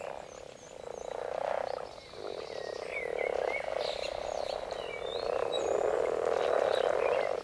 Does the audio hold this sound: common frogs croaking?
yes